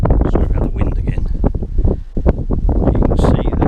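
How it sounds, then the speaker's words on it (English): Strong, gusty wind buffets the microphone outdoors beside an arable field and hedgerow of ancient oak pollards, a loud, continuous rumbling roar. "Sorry about the wind again."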